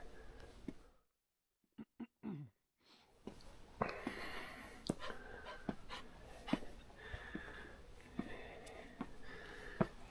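Close, quiet dog panting and snuffling with short sniffs and occasional clicks, after a brief moment of near silence, at Alishan National Forest Recreation Area in Taiwan.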